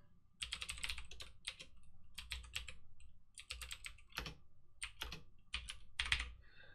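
Computer keyboard typing at close range while entering code, in quick irregular bursts of clicky keystrokes separated by short pauses, with a faint low hum underneath and no talking.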